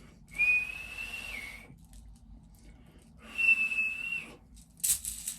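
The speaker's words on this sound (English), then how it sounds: "but I can whistle" A person whistles two long, steady notes with a pause between them, the second slightly shorter, heard alone and fairly quiet.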